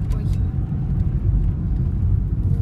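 Car pulling out onto the road on a trip through Sredneuralsk, heard from inside as a steady low engine and road rumble filling the whole clip.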